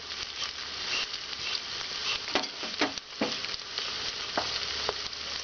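Spices sautéing in a pressure cooker for chicken biryani, a steady sizzle with scattered crackles and pops and occasional scraping stirs, close and moderately loud throughout.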